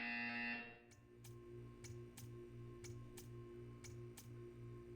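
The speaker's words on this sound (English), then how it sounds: "You will hear a buzzer." A buzzer in the game Portal, a loud electronic drone that cuts off abruptly, followed by a steady series of sharp evenly spaced ticks over a low hum.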